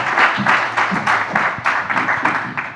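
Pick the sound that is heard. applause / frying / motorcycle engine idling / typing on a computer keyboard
applause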